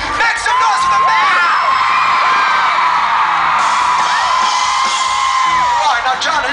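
A concert crowd cheers, whoops and yells loudly and continuously at a live show by a band, a dense wall of voices with shrill whistling whoops rising over it.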